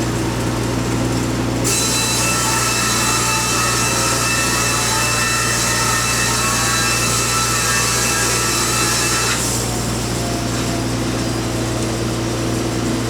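Green hemlock siding fed through a saw, a loud continuous cutting roar with a harsher high whine through most of the run over a steady machine hum.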